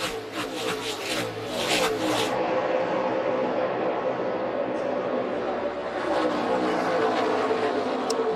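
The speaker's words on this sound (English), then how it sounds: "Ready to go green from Michigan. 200-mile-an-hour speeds, 100 laps around the 2-mile over" Race cars take the green flag for a 100-lap, 200 mph stock car race on the 2-mile Michigan oval, a steady loud roar of engines filling the whole stretch with crowd and track noise behind.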